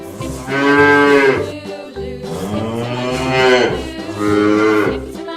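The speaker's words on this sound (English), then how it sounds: "Cow." A cow moos three times, long loud drawn-out lowing calls close up, each several seconds long with brief pauses between them.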